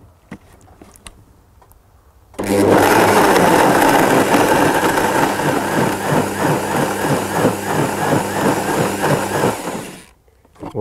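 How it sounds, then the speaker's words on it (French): A kitchen blender mixing a liquid base of seeds and nuts for a fermented pâté, starting suddenly after a quiet stretch, running loud with a steady whirring, rhythmic churn for about eight seconds, then stopping. "Je prends ça et je le mixe."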